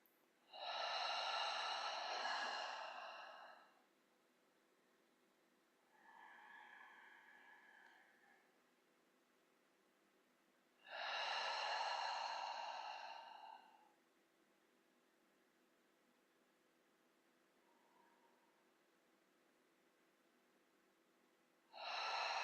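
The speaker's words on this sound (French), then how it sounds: "commencez par prendre 3 respirations profondes en inspirant par le nez et en soufflant par la bouche" A person takes slow, deep breaths during a guided relaxation, drawing air in through the nose and blowing out through the mouth; three long, close breathy rushes separated by quiet pauses, with a softer breath between them.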